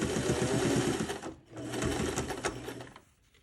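A sewing machine labors through a thick sling bag panel, running loudly up close in two steady bursts with a brief pause between them, then winding down.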